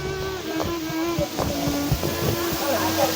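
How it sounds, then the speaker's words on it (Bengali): Waterfall at Madhabkunda Eco Park, falling from a great height in the rainy season, gives a constant broad roar, close and loud, while people talk over it. "অনেক উপর থেকে কিন্তু পড়তেছে পানিটা, কত উপর থেকে পানিটা পড়তেছে এখানে।"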